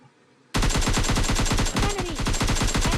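Rapid automatic gunfire from PUBG Mobile Lite, in a solo-versus-squad match around a house, bursts in loud and continuous after half a second of near silence and keeps a steady fast rattle to the end.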